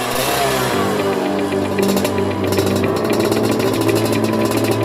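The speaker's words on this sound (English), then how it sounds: "You can hear how this exhaust produces a powerful sound" A Suzuki TS 125 motorcycle with a dry racing exhaust partly packed with fiber material runs loud and close, a steady raspy engine drone that rises in pitch partway through as the throttle opens.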